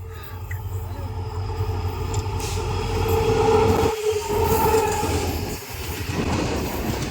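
A train rolls past close by, a loud, continuous rumble of wheels and wagons on the rails with rhythmic clatter, building toward the middle and briefly dipping before carrying on.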